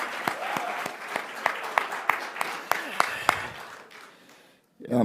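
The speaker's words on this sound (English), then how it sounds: "So give Meg a great round of applause." Audience applause in a congregation hall, rhythmic clapping from a modest crowd with a few sharp individual claps standing out, tapering off to near silence before a voice begins.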